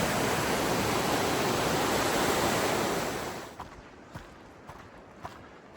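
Miners Creek flowing along a mountain trail, a loud steady broadband rush of water close by that fades after a few seconds, leaving faint footsteps and light taps on quieter ground.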